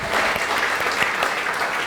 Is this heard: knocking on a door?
no